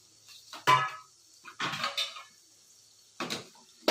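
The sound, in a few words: cooked bottle gourd transferred onto a plate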